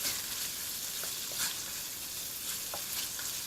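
Prawns frying in a pan, a steady close hiss of sizzling oil with occasional light scrapes and taps of a utensil stirring, no talk.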